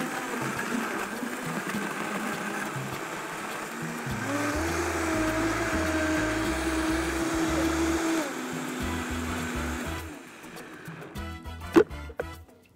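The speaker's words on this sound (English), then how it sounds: "turn on the blender and make the ingredients dance" A blender whirs loudly blending a pineapple shake, with ice crunching and rattling inside, its motor pitch shifting partway through before the noise winds down and stops.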